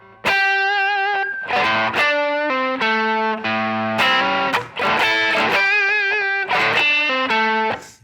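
A distorted electric guitar plays a slow funky blues lick, a series of sustained ringing notes separated by brief muted gaps, loud and close with no talking.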